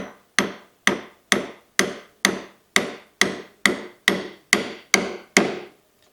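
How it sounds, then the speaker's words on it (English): A chisel struck with a mallet to chop waste between dovetail tails in wood: about twelve sharp, evenly spaced blows roughly half a second apart, each with a brief woody ring, close and loud with no talking. "I can position the edge of my chisel in that groove, and making sure that the chisel is 90 degrees, I can give it some"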